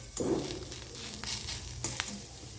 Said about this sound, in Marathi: कांदा पण आपला चांगला असा झालेलं आहे आता थोडा थोडंसं बाकी आहे थोडा होऊन द्यायचं आहे आपल्याला आणखीन थोडा परतायचं आहे